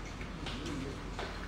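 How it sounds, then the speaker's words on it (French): A bird coos softly like a dove or pigeon in the morning, giving one or two brief calls over a steady low background hum. "Les oiseaux chantent ce matin."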